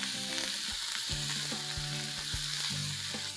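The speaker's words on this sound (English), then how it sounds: "I'm going to just saute this for a minute." Diced onion and capsicum sauteing in a hot pan, a steady close sizzle with a few stirring scrapes and knocks, no talking.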